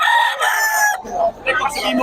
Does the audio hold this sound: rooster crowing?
yes